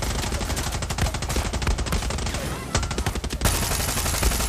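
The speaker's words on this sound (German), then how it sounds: "So viel Feuer." Heavy gunfire in the shooter Far Cry 6, dense rapid bursts of automatic shots cracking loudly and almost continuously, with a brief pause before the barrage resumes.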